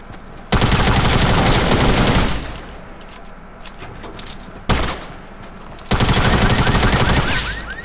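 A video game fires heavy, loud automatic bursts in three long sustained volleys, with brief quieter gaps of scattered shots between them.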